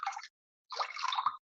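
Water poured into a bowl for a sourdough loaf, two close splashy trickling bursts separated by a brief silence, the second longer and ending with a small plop.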